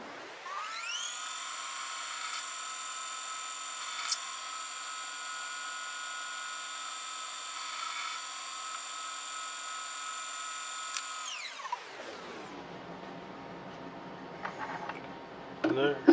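A power drill whines at a steady high pitch through metal on a 170-year-old flute's thumb key for several seconds, then spins down, followed by faint clinks and scraping.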